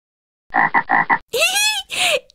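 Cartoon frog croaks from a Dutch children's learning game: four quick, buzzy croaks in a rhythmic run, then two longer, rising croaks. Loud, close and alone, with no talk.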